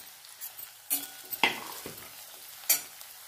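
Chopped potatoes and onions fry in a pan with a soft sizzle, punctuated by a few sharp scraping stirs and clinks of a utensil; quiet and close, with no talking.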